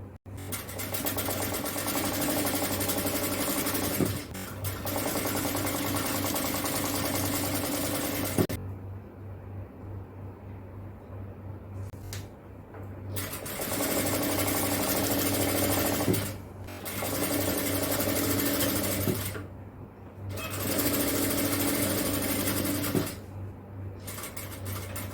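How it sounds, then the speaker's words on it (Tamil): A sewing machine runs a single seam on shorts, a steady close whirring hum in long stretches with brief stops, over a constant low background drone and no talking. "இந்த நீளத்துக்கு நாம ஒரு சிங்கிளா ஒரு தையல் தைக்கலாம்."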